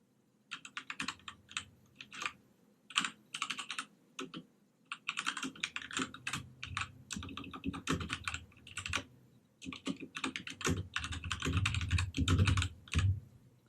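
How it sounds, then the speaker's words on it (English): Typing on a Keychron K2 mechanical keyboard gives rapid clusters of crisp, clacky keystrokes in irregular bursts with brief pauses, close and clear, with no talking. "let's make the typing like that so you can hear the sound of the keyboard"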